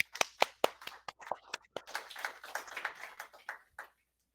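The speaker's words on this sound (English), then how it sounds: "let's clap for Dr." Gala audience clapping for a speaker at a university anniversary event, scattered individual claps that thicken into light applause and then die away, fairly faint and sparse, with no voices.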